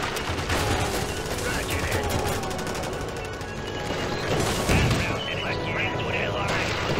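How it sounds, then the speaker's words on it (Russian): Dense, continuous anti-tank artillery and gunfire in the WWII strategy game Blitzkrieg 2: a rattle of repeated shots and booms, with a voice speaking over the battle noise. "Ну да, противотанковая артиллерия."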